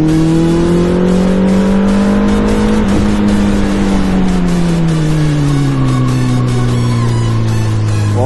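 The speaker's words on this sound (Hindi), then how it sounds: "what a loud machine, literally तीसरे गियर पे 200" A Suzuki Hayabusa motorcycle engine screams through a hard run at high speed in third gear, a loud, close, sustained roar with the pitch climbing and sagging as it pulls, with wind rush throughout.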